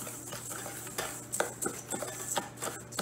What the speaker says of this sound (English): So you're just gonna mix that together.